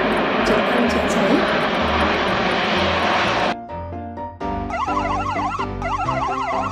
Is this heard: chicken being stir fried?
no